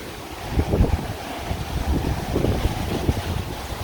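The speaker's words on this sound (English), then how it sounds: "I would say like 30 miles an hour wind here." Strong gusting wind of about 30 mph roars steadily during Hurricane Ian in Groveland and Clermont, Florida, a dense low rumble of buffeting against the microphone that swells and ebbs throughout, with no voices.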